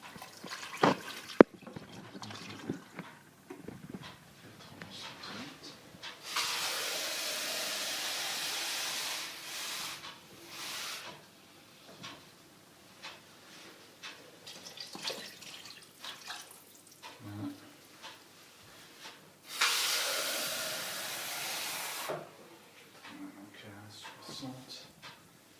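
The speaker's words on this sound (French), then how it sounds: "je mets de l'eau." Water is poured into a pot while making chicken couscous, in two rushing bursts of a few seconds each, separated by quieter handling noises and talking.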